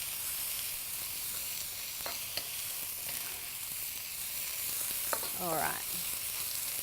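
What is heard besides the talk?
beef mince noodles sizzling in a wok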